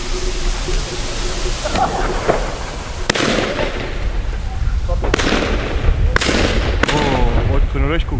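An 8-shot Weco firework cake goes off outdoors, firing a series of sharp, booming shots spaced a second or so apart, each with a crackling, hissing tail, over a steady background rush.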